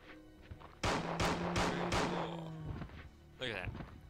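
Revolver fire in Resident Evil 2 against zombies: about four sharp, heavy shots in quick succession, loud and close, followed by quieter mechanical clicks and a short metallic rattle like a reload.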